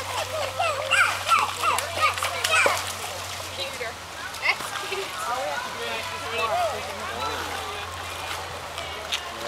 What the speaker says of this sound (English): Stomp that water.